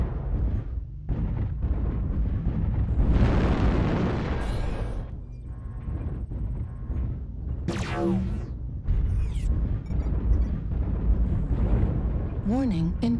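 Heavy explosions from incoming missiles boom and rumble repeatedly in a mech combat video game, with dense blasts, mechanical whirs and an automated voice warning over the barrage.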